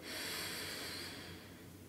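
One long, slow breath is drawn in close to the microphone, a soft, airy rush lasting nearly two seconds before easing off.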